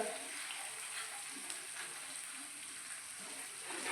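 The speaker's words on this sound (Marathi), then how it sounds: "मिरची पावडर सर्व मसाले चांगले परतून घ्यायचे" Ground chilli powder, kitchen king masala, goda masala and coriander powder sizzle steadily in hot oil while being stirred for a Maharashtrian soybean gravy masala, a continuous close hiss with faint scraping.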